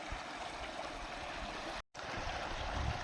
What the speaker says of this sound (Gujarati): તો હાલો પાણીમાંથી ધીરે ધીરે આપણે આમ હાલી